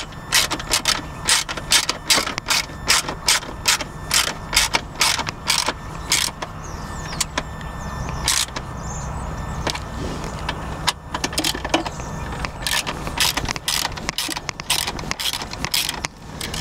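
An Allen key tightens screws on a luggage rack being fitted to a Vespa GTS 300 HPE scooter, giving repeated sharp metallic ratcheting clicks in bursts, close up, with a faint steady hum beneath and no talking.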